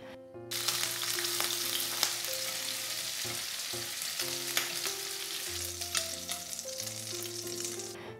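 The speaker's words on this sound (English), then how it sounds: "Fry the next batch and add some oil." A batch of prawns frying in oil in a wok for a Chinese soy sauce prawn stir-fry, a loud, bright, continuous sizzle with crackling spits and occasional stirring, alone with a low musical hum beneath.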